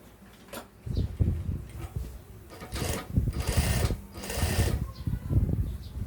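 Industrial sewing machine stitching a shirt collar in quick bursts, a mechanical whirring that starts, pauses and starts again, heard up close with no talking.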